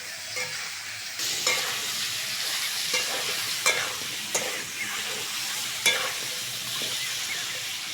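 Vegetables frying in a pan for a vegetable curry, a steady sizzle with occasional stirring scrapes and clinks, close and moderately quiet, with no voices.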